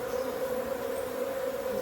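A steady, close honeybee buzz at a hive drones without a break, one even tone holding the whole time, with no voices.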